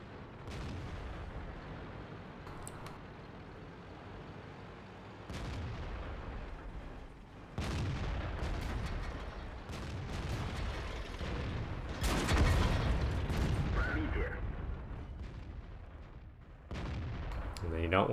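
Artillery fire and shell impacts ring out in a tank video game, a steady barrage of booms and blasts with heavier bursts near the middle and end, set against continuous battle noise.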